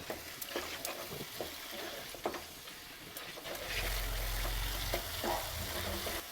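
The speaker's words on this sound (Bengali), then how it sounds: "দিয়ে একটু সামান্য জল দিয়ে মশলাটা আরেকটু ভালো করে কষে নেবেন" Tomato paste masala with salt, sugar and a splash of water fries and gets stirred in a pan for Bengali aloo bhuna, a soft continuous sizzle broken by scraping spoon strokes, with a low steady hum joining partway through.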